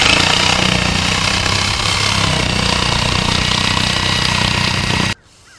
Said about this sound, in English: use your reciprocating saw to cut out the circle.